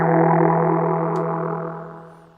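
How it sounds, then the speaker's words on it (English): Sustained synth pad with reverb and compression, a dense held chord with a steady low tone, loud at first and slowly fading over a couple of seconds, no voice. "Let's add some reverb and compression."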